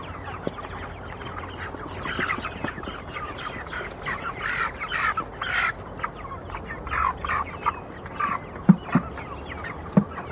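Five-week-old meat chickens cluck in scattered, irregular bursts close by, with a few sharper, louder clucks toward the end and a low, steady barn background beneath.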